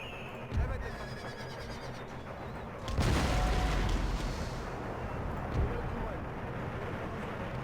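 Artillery fire in Empire Total War, a heavy boom landing about midway that is followed by a long rumbling roll, with a lighter thud earlier and later, under ongoing battle ambience.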